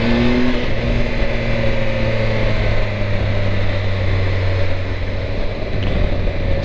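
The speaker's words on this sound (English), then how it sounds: "First car I've come across on this road." A single car passes on a mountain road, its steady engine drone holding close and loud throughout with no voices.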